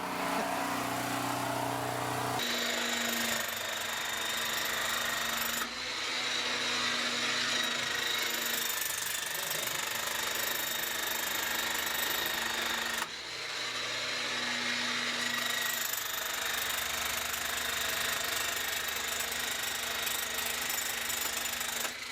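A loud, continuous mechanical roar of rock drilling in a Mexican mine, with a constant high whine, briefly cutting out and restarting a few times.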